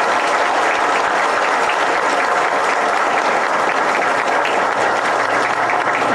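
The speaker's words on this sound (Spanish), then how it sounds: "Un aplauso." Audience applause at a Sandinista government event in Nicaragua, loud and sustained across the whole stretch, a dense steady wash of many hands clapping with crowd noise mixed in.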